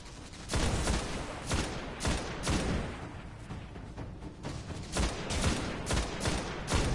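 Video game gunfire in Destiny, a series of rapid, loud bursts of shots repeating roughly every second with brief gaps between volleys.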